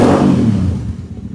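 A Royal Enfield Interceptor motorcycle exhaust revs loud and close, a rising rumble that eases off over its brief span with no talk.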